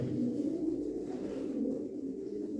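Pigeons cooing softly in a steady, low, rolling murmur, heard alone with no talk.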